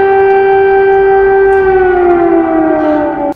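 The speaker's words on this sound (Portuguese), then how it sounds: "as primeiras sirenes de alerta tocaram por vários minutos nos alto-falantes" Air raid warning sirens blare over the capital's loudspeakers at dawn, a loud, steady wail that holds its pitch and then slowly slides downward before cutting off.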